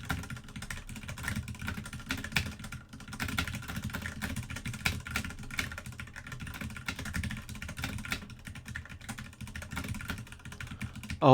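Rapid typing on a computer keyboard, close and continuous clicking bursts with short pauses, without talk.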